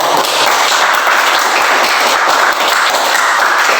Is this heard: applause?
yes